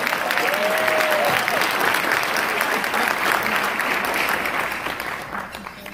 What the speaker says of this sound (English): So can we give them a round of applause as well?